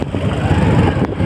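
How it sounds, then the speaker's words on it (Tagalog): Motorized tricycle engine running steadily at close range, a dense low chugging rumble with a brief burst of noise near the end. "So sasakay tayo ngayon ng tricycle"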